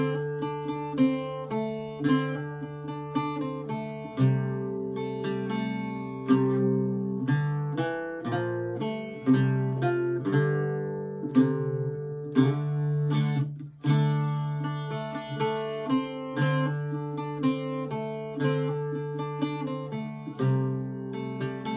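Irish bouzouki playing The Foggy Dew, a steady melody of bright plucked strings over ringing drones, with continuous strummed notes at moderate loudness and no voices.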